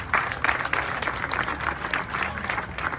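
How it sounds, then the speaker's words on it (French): Steady applause from a crowd, dense clapping continuing evenly throughout with no voices standing out. "on va accueillir la dernière mention très bien, Monsieur Maswad, sous vos applaudissements"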